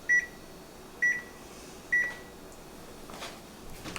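An oven timer gives three short, clear electronic beeps at an even pace about a second apart while being set, followed by quiet room hiss with a few faint clicks.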